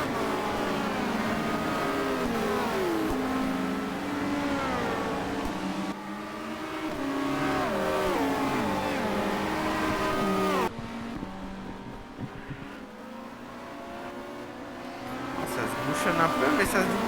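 Touring race cars from the 1990 WTCC round at Monza roar past in a close pack, with loud, layered engines rising and falling through gear changes and a French commentator talking over the noise throughout.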